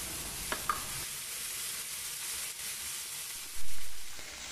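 Canned mushrooms and green olives hitting a hot pan, a steady close sizzle with a couple of small clicks and a brief louder burst of hissing as they are stirred in.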